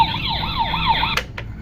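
A battery-powered toy fire brigade truck plays an electronic wailing siren, a rapid rising-falling warble that runs for about a second before cutting off with a couple of clicks.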